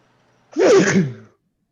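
A single close, loud sneeze, sharp and breathy, standing alone against silence.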